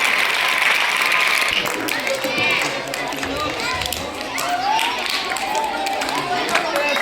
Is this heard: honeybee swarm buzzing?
no